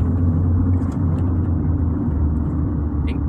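A 1999 Fiat Palio 1.6 16v engine hums and rumbles steadily from inside the moving car, loud and low, with road noise and no talk.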